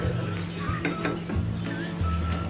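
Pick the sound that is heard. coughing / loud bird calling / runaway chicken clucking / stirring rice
stirring rice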